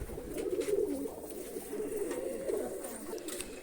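A pigeon coos in soft, low, throaty repeated murmurs, faint and close, with no talk over it.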